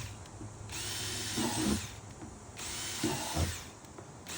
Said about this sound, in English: So I'm gonna just take our drill.